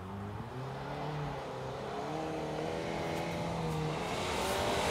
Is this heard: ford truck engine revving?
yes